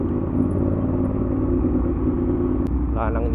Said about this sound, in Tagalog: Ay, traffic.